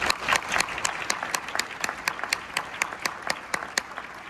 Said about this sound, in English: Let's have one more round of applause for everybody.